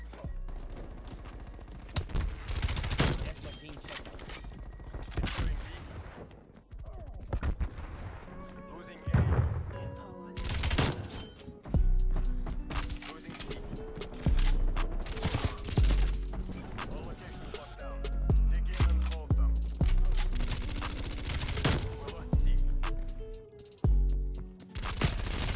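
Repeated bursts of MP5 hipfire in Call of Duty Cold War, loud and close, with short gaps between bursts over a long stretch of play. Voices talk in between.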